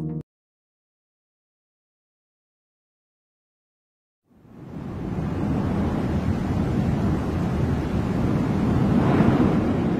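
Ocean surf roars as a continuous broadband wash of waves, beginning abruptly after about four seconds of silence and holding steady and fairly loud to the end, with wind buffeting the microphone.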